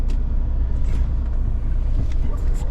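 A truck pulls out of a warehouse after unloading, with a steady low engine rumble heard from inside the cab and faint higher rattles on top.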